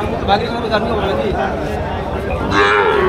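Calves lowing at a busy cattle market, moos rising over a constant crowd murmur and nearby voices talking, with a louder bellow near the end.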